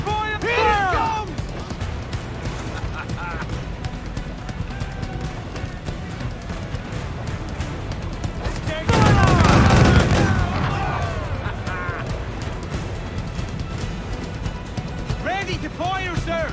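Ship cannons boom in a loud burst of naval gunfire in Assassin's Creed IV Black Flag, set amid sea battle ambience with crew voices shouting throughout.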